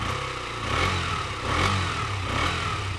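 A KTM Duke 125 with a small, muffled engine is revved gently, its low idle rising in two or three soft throttle blips at moderate distance.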